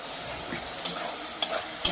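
A spoon stirs chicken curry with cumin powder and meat masala in a frying pan, a soft continuous sizzle with three sharp scraping clacks against the pan, close and quiet, no talking.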